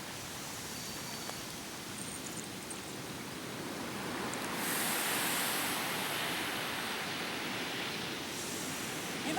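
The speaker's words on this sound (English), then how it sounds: "The water came in really close." Ocean surf rolls in close, a broad continuous wash of water noise that swells louder midway and then eases slightly, with no voices over it.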